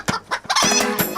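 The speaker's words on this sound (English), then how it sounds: "Allow the rooster anthem to play out" A rooster clucks and crows in a short run of loud, close bursts, ending with a drawn-out crow, with no voices.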